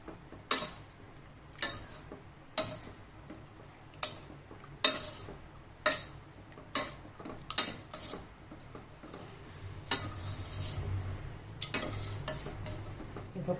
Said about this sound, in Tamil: மேலாப்பில் பருப்பை லைட்டாக மசிச்சுக்கலாம். தக்காளிலாம் மசிகிற அளவுக்கு சேர்த்து மசிச்சு விட்ருங்க.